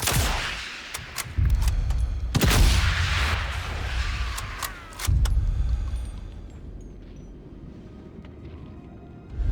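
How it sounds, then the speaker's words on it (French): Suppressed subsonic rifle shots in the video game Sniper Elite Resistance: a few sharp muffled cracks spread across the clip over a low rumbling game background, with no voices. "Balle silencieuse, parfaite pour éliminer discrètement la cible."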